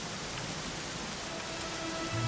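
Steady rain pours in Dragon Quest XI, a dense, even hiss of falling drops that stays constant and fairly close throughout, with no voices.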